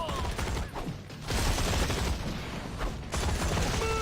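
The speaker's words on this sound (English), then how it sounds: "And of course we have our suppression fire." Winter Soldier's suppression gunfire in the video game Marvel Heroes 2015, a loud dense continuous barrage of rapid shots with brief dips, alongside muffled game effects.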